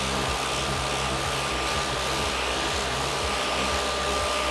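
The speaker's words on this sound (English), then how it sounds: "I'm going to put the orbital sander on a low speed and just start working around" An orbital sander running on low speed across a microcement surface, a continuous close whirring drone with a steady motor hum and no pauses.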